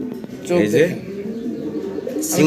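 Pigeons of a running/racing breed coo in soft low throaty rolls close by, with a voice talking over and between the calls.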